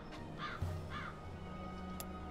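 A crow in a video game gives two short raspy caws over a quiet ambient background, faint and somewhat distant, followed by a brief sharp click.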